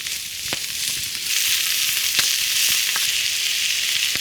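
Vegetables sizzle steadily in a pan over an open campfire outdoors, a close, bright frying hiss with a few sharp pops and crackles scattered through it.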